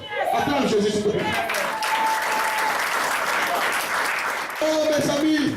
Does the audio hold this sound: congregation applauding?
yes